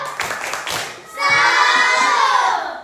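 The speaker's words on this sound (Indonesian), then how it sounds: "tepuk salut untuk kelompok 2" Classroom group led by a teacher doing a salute clap chant: quick rhythmic hand claps with chanting, then a burst of loud children's shouting and cheering, close and busy.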